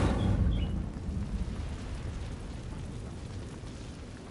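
A Hogwarts Legacy Incendio fire spell in the video game: a loud roaring, rumbling burst of flame at the start that settles into a steady crackling whoosh and slowly fades, with no talk.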